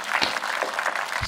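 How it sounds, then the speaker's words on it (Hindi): An audience claps together at a live Hindi poetry recitation, a dense, steady patter of many hands at moderate loudness, brief and continuous. "एक बार दोनों हाथ उठाकर तालियों के साथ एक बार।"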